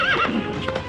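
A horse being led away from a cart gives a close, loud whinny with a falling pitch, then hoof clip-clops follow under a busy background.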